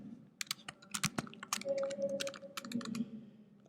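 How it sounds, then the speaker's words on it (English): Rapid typing on a computer keyboard, clustered bursts of crisp key clicks with short pauses, close and fairly quiet, with a faint steady hum underneath and no speech. "I can't type for shit."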